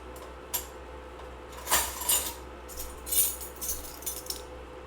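Measuring teaspoons clinking while sugar is measured out in a home kitchen: several light metallic chinks and rattles come in scattered, irregular bursts, quiet and close over a low background hum.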